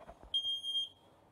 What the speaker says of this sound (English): that horrible sound is means someone set off the goddamn fire alarm in this fucking building